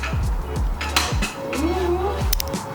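A spoon stirring peanut butter in a bowl, with several sharp clinks and scrapes of metal against the dish, close and fairly loud, and a faint voice briefly in the background.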